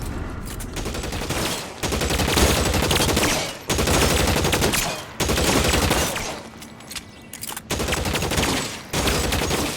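Gunfire rings out in the L.A. Noire video game as shots are aimed at gasoline barrels, coming as loud, dense volleys broken by several brief pauses.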